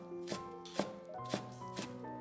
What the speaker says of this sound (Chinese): 一把洗干净的香葱切成葱花